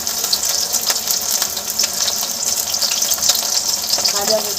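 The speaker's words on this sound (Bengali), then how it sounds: "এই যে এখানে ভাজা হচ্ছে অলরেডি" Food sizzles and crackles in a hot pan while being cooked for chow mein, a steady, close frying hiss with small pops throughout.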